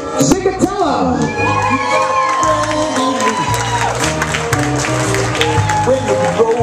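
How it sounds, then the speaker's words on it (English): Wedding reception crowd cheering and applauding the flower girl and two ring bearers, a loud, sustained mix of clapping, whoops and children's shouts with music playing underneath throughout. "On a nice round of applause for our flower girl, Elizabeth Saucier, and our ring bearers, Max and Chase Zicatella."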